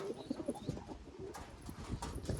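Pigeons with their chicks coo softly at close range, a low, faint, repeated burbling with a few brief chirpy notes and no talk.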